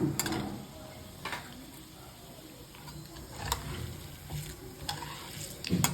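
Ingredients frying in a pan until browned, a continuous soft sizzle with intermittent clicks and scrapes from stirring, close and moderately quiet, no talking.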